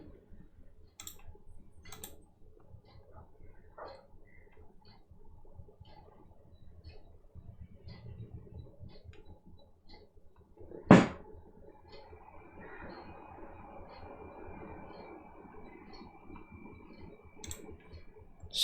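A single sharp computer mouse click lands near the middle, set among faint scattered ticks and keyboard-like taps at a quiet, close level, while a file download is being attempted on Google Drive.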